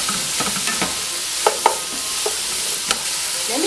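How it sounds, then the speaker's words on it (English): Garlic goes into a pot of Korean radish soup base and is stirred, producing a strong continuous sizzle with repeated scraping strokes and light clinks of a utensil against the pot. "Now I'm going to put some garlic in it too."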